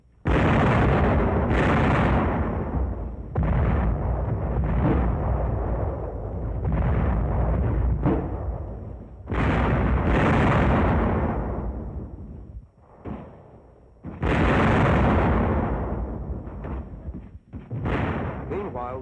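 WWII naval guns, light field artillery and mortars fire in a run of heavy, booming blasts separated by short gaps, loud and close, with rumbling decay after each shot.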